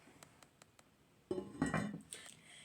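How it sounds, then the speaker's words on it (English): Lid placed on a pot of frozen freezer-meal ingredients, after a few faint taps comes a sudden close metallic clatter and ringing clink, then a fading rattle. "Put the lid on"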